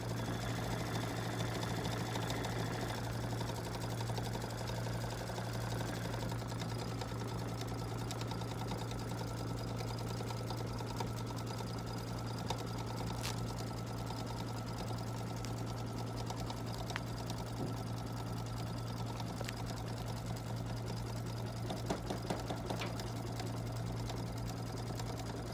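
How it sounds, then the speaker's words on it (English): A sewing machine runs steadily while stitching a 3D embellishment for a Kimberbell bench pillow, with a continuous whirring hum and needle chatter and no talking throughout. "I'm just going to do a couple of stitches to kind of hold this together in the center."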